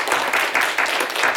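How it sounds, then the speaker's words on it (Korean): Church members in a Korean Baptist congregation clap for the people who prepared the food, a short burst of steady, fairly close applause with no talking over it. "우리 한번 음식 준비하신 분들에게 박수 한번 드릴까요?"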